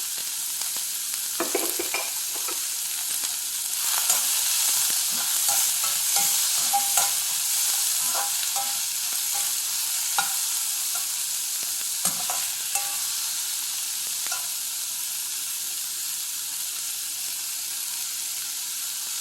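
Fennel seeds fry in hot oil for shark fish puttu, a dense, bright sizzle with repeated spoon scrapes and taps throughout, close and unbroken by speech.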